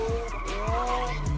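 A McLaren 720S drifts on tight mountain roads, its tires squealing in a loud sustained skid over the revving engine, with repeated downward sweeps of engine pitch.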